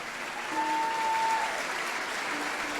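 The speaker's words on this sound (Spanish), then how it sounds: "Aplauda al Señor." Congregation applause during a church sermon, a soft, steady patter of clapping heard at some distance for a few seconds with a faint tone over it.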